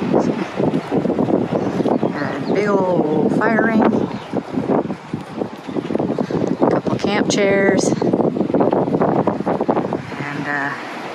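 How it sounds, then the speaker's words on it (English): Strong wind buffets the microphone in a constant roar at a campsite near Montezuma National Monument while a person talks over it throughout. "It's windy."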